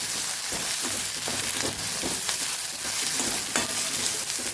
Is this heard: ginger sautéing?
yes